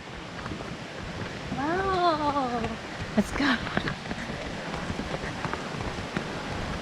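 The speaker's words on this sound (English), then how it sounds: "I hear water." Running water along the forest trail to Kuang Si Waterfall in Laos, a steady broad rushing wash heard throughout, with a short excited exclamation and a brief spoken line over it.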